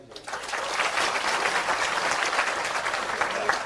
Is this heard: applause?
yes